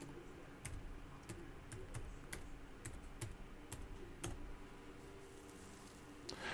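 Typing on a computer keyboard: a quiet, irregular series of distinct key clicks, some louder than others, in a calm room.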